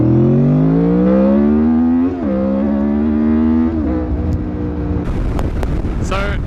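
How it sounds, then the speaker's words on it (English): A Honda VFR800 Gen 6 motorcycle engine revs up steadily, its rising harmonic tone jumping to a harsher, raspier note as VTEC engages, with wind rush growing and brief sharp clicks near the end. "listen to the noise the bike makes as soon as it goes past Vtec"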